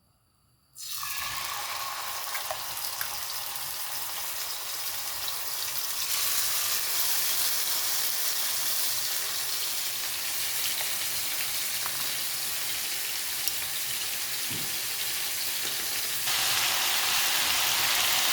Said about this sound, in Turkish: Etimi kızartıyorum.